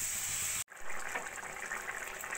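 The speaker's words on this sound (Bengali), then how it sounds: "এবার দিয়ে দেবো আমি পরিমাণ মতো জল।" Water gushes into a pan of Parshe fish chachori with raw tomato and potatoes, a brief loud pour, a short cut-off, then a continuing close splashing fill.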